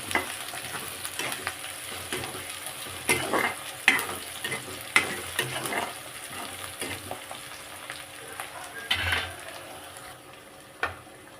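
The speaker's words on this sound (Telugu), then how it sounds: "ఎగ్స్ వేసాను అది కూడా మిక్స్ చేస్తున్నాను" Eggs fry with chilli and garlic in a pan for an egg fry curry, giving a soft continuous sizzle under irregular stirring scrapes and a few sharper clacks against the pan.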